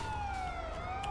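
Police car siren in the GTA video game, a steady wailing tone that sweeps slowly downward, loud and close, with a low vehicle rumble underneath and no talking.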